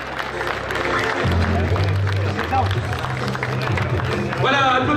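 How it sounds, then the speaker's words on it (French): Crowd applause and cheering at a cycling stage finish for Spanish rider Carlos Rodriguez Cagnon, loud and sustained throughout, with an announcer's voice over it and a brief rise in cheering at the very end. "Voilà, applaudissements pour Carlos Rodriguez Cagnon"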